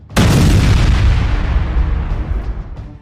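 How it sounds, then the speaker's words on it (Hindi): A rocket strikes a night convoy of military vehicles in a single loud, close blast that hits abruptly and then rolls into a long, rumbling decay, heard alone with no voices. "तभी उनके ऊपर आसमान से एक रॉकेट आ गिरता है, जिसमें जोरदार ब्लास्ट होता है"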